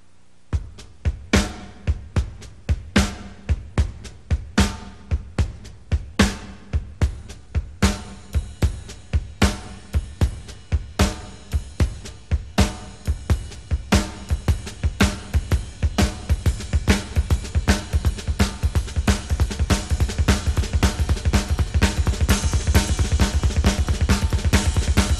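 A drum kit plays a driving beat with two bass drums, soft ghost strokes slipped between the first and third triplets, close and loud, building in density toward a steady roll near the end, with no talking.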